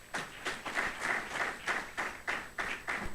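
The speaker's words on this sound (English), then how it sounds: "Another round of applause for her," Applause from a crowd at a leadership programme's closing ceremony, rhythmic clapping swelling in regular pulses, moderately loud and close with no talk over it.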